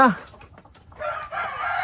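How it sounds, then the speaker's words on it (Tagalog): A brooding hen gives a short squawking call, then soft clucking chatter follows after a brief pause, fairly close. "Ayan yung manok."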